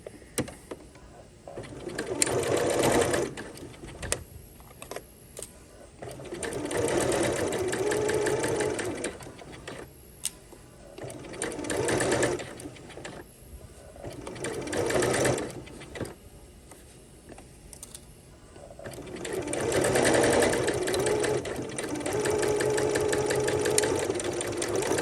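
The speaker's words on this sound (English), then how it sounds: "I'm going to sew this just like before." A sewing machine stitches the inseam of pajama shorts in several bursts of steady rapid whirring, loud and close, with pauses between runs and faint cooing birds in the background.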